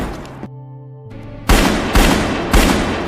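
Gunfire in a movie gunfight scene: after a short low hum, three loud, sharp shots ring out about half a second apart, close and dominant.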